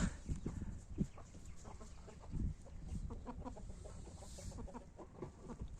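Several chickens cluck and murmur softly in a quiet outdoor setting, with scattered soft calls throughout.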